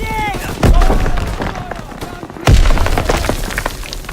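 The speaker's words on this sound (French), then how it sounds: "Daniels, lance une grenade dans ce bunker!" Two heavy booming blasts from a grenade in the World War II shooter Call of Duty WWII, the first near 0.6 s and the second near 2.5 s, amid gunfire crackle and shouted voices.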